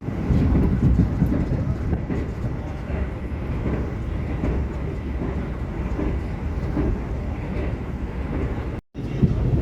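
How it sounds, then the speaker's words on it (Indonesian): The Argo Wilis express train passes through Sidoarjo station without stopping: a loud, continuous close rumble of wheels and carriages with a faint clatter, broken by a brief dropout near the end. "di stasiun Sidarja ini kereta api Argo Wilis tidak berhenti ya"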